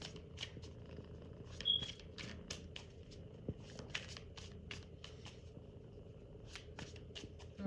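Tarot cards being shuffled close by, a quick run of crisp riffles and soft flicks in steady bursts, with faint low room hum underneath and no talking.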